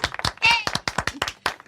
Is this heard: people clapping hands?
yes